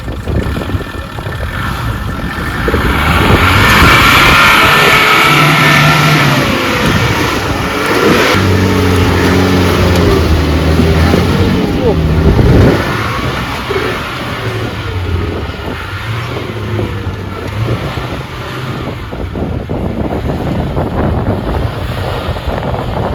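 A Suzuki Jimny or Mahindra Thar off-road vehicle grinds uphill on a rough Nalumala track, its engine droning low and steady beneath heavy wind buffeting on the microphone.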